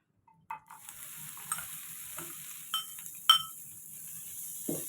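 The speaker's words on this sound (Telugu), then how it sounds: "కొంచెం మనం నెయ్యి వేసుకొని లాస్ట్గా ఫ్రై చేసుకుందామండి" Dried meat fries in ghee with a quiet steady sizzle, broken by a few sharp clinks and scrapes of a utensil against the pan, close by, with no talking.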